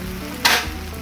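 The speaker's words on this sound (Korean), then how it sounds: "자, 이렇게 당면이 잘 볶아졌으면 이렇게 타닥타닥 소리가 나거든요." Glass noodles stir-fried in a frying pan for japchae give a short burst of crackling sizzle over a steady low background hiss.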